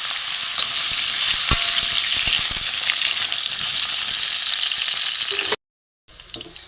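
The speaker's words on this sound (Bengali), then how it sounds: "এঁচোড় সেদ্ধগুলো আমি ভেজে নেব।" Boiled young jackfruit fries in white oil in a kadai, giving a loud, continuous crackling sizzle with occasional stirring scrapes before a sudden cut to silence.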